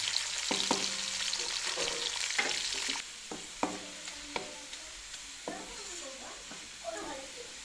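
Sliced onions frying in oil for beef degi pulao, a steady sizzle under repeated scraping strokes of a spoon stirring the pan, close and moderately loud throughout.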